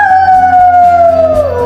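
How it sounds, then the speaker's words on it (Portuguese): Wolf sound effect for an animated children's story, a loud, close howl of pain with a long sliding tone that falls gradually over under two seconds, heard alone. "Uivando de dor, o lobo correu pela floresta."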